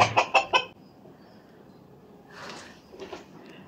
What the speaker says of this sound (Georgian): ესეც მამალია ეხა სწავლობს ყიყლიყოს